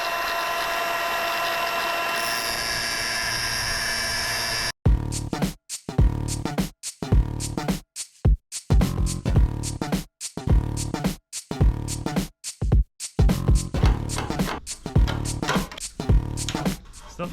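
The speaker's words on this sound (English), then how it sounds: "James is just going to start peeling this part of the gutter off and drilling all the spot welds out" A drill bores out spot welds on the rusty roof gutter of a 60 Series Land Cruiser, a steady whine at first, then a run of short, choppy bursts broken by pauses.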